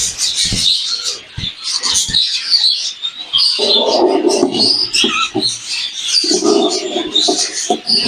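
Pigeons coo in low, soft rolling bursts amid a busy chorus of chirping birds, with someone speaking over much of it.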